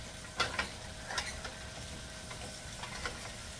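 Chicken and honey being stirred in a pan, faint soft sizzling with several light scraping taps from a utensil at irregular moments, quiet and close.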